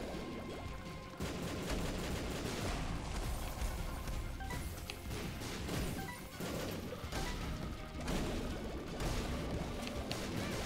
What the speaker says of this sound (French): Pour toujours plus d'explosions parce qu'il n'y en avait pas assez dans ce boss fight.